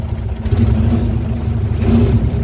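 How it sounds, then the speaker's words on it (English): A 1984-85 Carl Heald hauler's small engine runs close and steady with a throbbing, slightly fluctuating drone and a brief rise in revs, alone with no talking. "Good strong motor."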